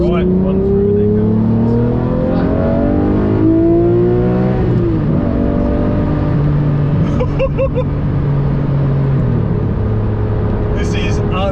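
A Lamborghini Murcielago LP670-4 SV engine drops through downshifts and then pulls hard, its loud note sweeping up and falling between gear changes, with a person talking over it from inside the car.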